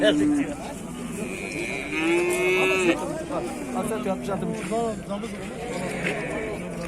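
Several cows moo loudly, long drawn-out calls overlapping with one another, while people talk in the background of the busy Sungurlu livestock market in Turkey.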